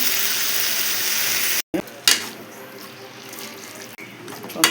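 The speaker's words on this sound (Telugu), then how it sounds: "పొయ్యి మీద పెట్టుకుని ఇప్పుడు ఇదంతా కూడా ముక్కలు ఎర్రగా వేగిపోయేలాగా మగ్గనివ్వాలి" Gongura chicken curry pieces frying in a pot on the stove, a dense, hissing sizzle that runs steadily, briefly drops out, then resumes with a few clanks of utensils nearby.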